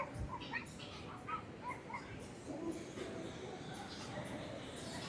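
Dogs on a daily beach walk whimper and yip in a run of short high cries, then settle under steady wind and surf noise, with a person talking over them.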